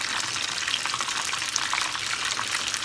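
Battered fish for fish and chips bubbles and sizzles in hot oil, a steady close crackling hiss that holds evenly throughout with no talking.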